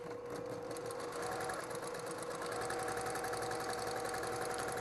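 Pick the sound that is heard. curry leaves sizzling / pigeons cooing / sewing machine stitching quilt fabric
sewing machine stitching quilt fabric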